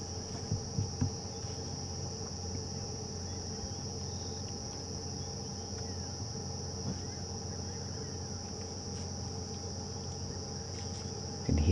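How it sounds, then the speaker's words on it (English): Cicadas calling in the African bush at sunset, a steady high sustained drone with faint lower insect buzzing underneath, continuing without break. "the cicadas now starting to call. Wonderful sound of cicadas"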